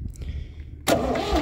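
A quiet starter grinds briefly, then a tractor's diesel engine catches and settles into a loud, rumbling idle close by.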